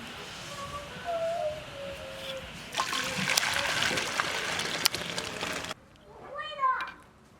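Boiled rock sugar syrup poured out of a pot to cool, a trickling, splashing stream of liquid that swells midway and then stops, followed by a short burst of background voices.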